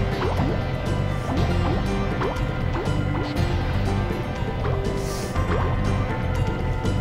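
Water pouring in and filling a level in Spyro 2: Ripto's Rage, a continuous loud rush of liquid with repeated dripping and bubbling plops over a steady musical background.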